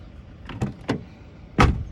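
A 2005 Honda Civic's doors close in quick succession: three or four soft, solid thuds and latch clunks heard close up, the final one heaviest, in a quiet setting.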